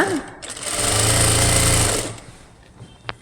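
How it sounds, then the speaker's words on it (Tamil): A sewing machine runs a steady stitch along the neckline of a lined blouse, whirring loudly for about a second and a half, then stopping and leaving quiet handling noises and a brief click. "இந்த சைடும் அதே போல் அடுத்த கழுத்து கால் இன்ச்சில் தைச்சிட்டு வாங்க"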